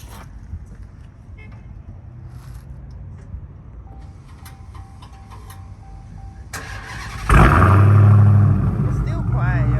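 A 2019 Dodge Hellcat widebody with straight-pipe dual exhaust fires up, a sharp loud start settling into a deep, rumbling idle after quiet moments with people talking nearby.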